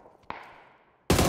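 Gunfire in the video game PUBG: one sharp shot with a ringing tail, then a louder burst of fire hitting abruptly at the end.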